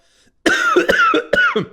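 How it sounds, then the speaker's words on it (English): A short burst of three or four harsh coughs in quick succession, close and fairly loud, with a rough throaty quality. "see the coughing is fun"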